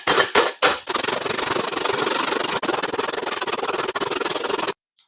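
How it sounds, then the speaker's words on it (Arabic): A wooden stick or knife pokes through aluminium foil laid over a pot of chicken mandi, giving a few sharp opening crackles followed by steady, close scratchy crinkling that cuts off abruptly. "بعود خشب أو بالسكين نثقب القصديرة."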